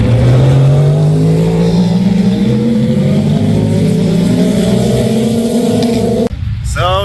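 IMSA race cars at the Rolex 24 at Daytona roar past at close range, engine pitch climbing steadily as they accelerate, then the sound cuts off sharply near the end.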